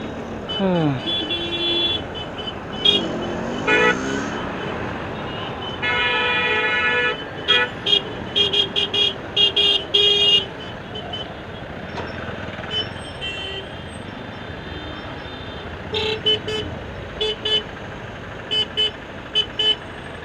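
Busy road traffic in Kongaon seen from a motorbike, with cars, trucks and buses rumbling close by and repeated car horns honking in short bursts and longer blasts, some overlapping, over a steady engine roar.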